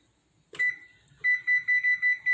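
A kitchen timer goes off during banana cake baking: a sharp click and one short electronic beep, then a run of five loud, evenly spaced beeps.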